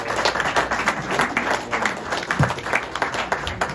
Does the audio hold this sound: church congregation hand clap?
yes